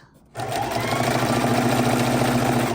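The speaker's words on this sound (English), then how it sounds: "Making sure we're not sewing on the selvage. We're coming in. And zipping straight across." A sewing machine whirs on steadily while stitching quilt border strips straight across, kicking in after a brief quiet start and running loud and close to the end.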